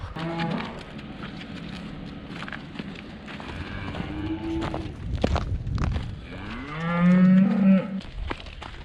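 Dairy cows in a barn moo repeatedly, with several long, loud calls near and farther off, the loudest rising toward the end over steady barn background noise.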